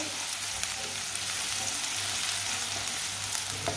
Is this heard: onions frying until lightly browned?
yes